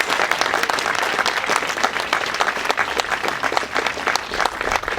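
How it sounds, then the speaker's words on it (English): Audience applause at a scholarship celebration, steady dense clapping from a crowd that stays strong throughout. "One more round of applause for all of us this year's scholars in the class of 2026."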